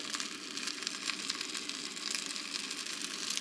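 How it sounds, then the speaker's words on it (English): Steady, crackling sizzle of food frying in a pan, a continuous hiss with fine pops throughout and no talking. "I don't know what's already sizzling, you hear it?"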